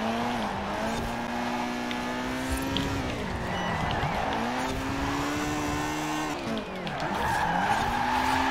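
A car drifting in Forza Horizon 4, loud sustained tire squeal over a revving engine whose pitch rises and falls as the car slides through corners, close and continuous with no talk.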